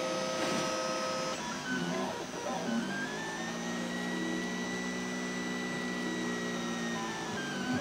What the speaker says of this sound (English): no, it's starting to emit filament now